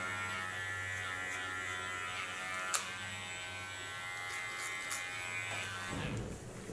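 Electric clipper blade buzzing steadily as it trims the contour line of a short pixie haircut, close and continuous, with a couple of brief clicks and a shift in tone near the end as the blade lifts off the skin.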